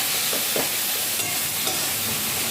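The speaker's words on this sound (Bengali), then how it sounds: "একটু লঙ্কার গুঁড়ো দিচ্ছি রং হওয়ার জন্য এটাকে আমি মিশিয়ে নিলাম" Fish frying as chili powder is stirred in: a loud, continuous close-up sizzle with a few faint scraping stir sounds and no talking.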